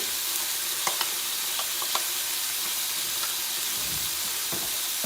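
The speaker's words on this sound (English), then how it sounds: "I'm going to go ahead and add my mushrooms, my broccoli" Mushrooms and broccoli hit a hot pan for a veggie teriyaki rice bowl, sending up a steady, loud, close sizzle and hiss with a few faint clicks of a utensil.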